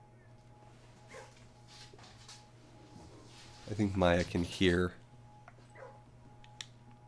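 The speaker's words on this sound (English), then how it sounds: "the puppies barking in there" Puppies bark in the video game Blue Prince, a cluster of yips and barks in the middle, fairly close, with someone talking over it before and after.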